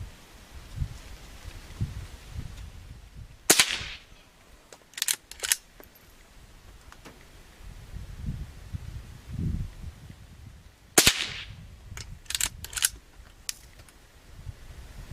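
Two sharp, loud cracks from a Henry Silver Eagle .22 carbine ring out several seconds apart outdoors. Each is followed by quick mechanical clacks, with quiet ambience between the shots.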